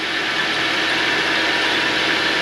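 A Vevor machine's engine holds a loud, steady drone near its top RPM, a continuous close hum with no change in pitch over the short span and no speech.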